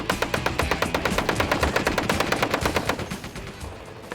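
Rapid bursts of .50 caliber machine gun fire from an M1 Abrams main battle tank at a desert military training ground, a steady rhythmic stream of loud, sharp shots that gradually fades toward the end.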